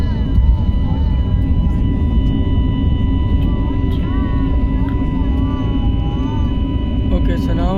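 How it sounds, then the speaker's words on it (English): Airbus A320 airliner engines in climb after takeoff: a steady, loud cabin roar with a continuous low drone and faint tonal whine, no breaks throughout. "Okay, so now they're leveling the aircraft to gather a bit more speed to continue climb to cruising altitude."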